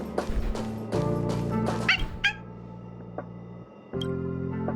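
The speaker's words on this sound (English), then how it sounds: "There's the dog." Peppy the dog barks in the video game Honkai Star Rail, several short yips and barks over a steady game music background.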